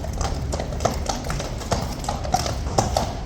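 Two horses of the Life Guards at Horse Guards clip-clop in on hard ground, a steady, fairly close rhythm of overlapping hoof strikes with faint background noise.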